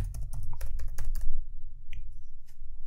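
A password typed on a computer keyboard while signing into a Gmail account, a quick run of close, crisp key clicks followed by a few scattered taps.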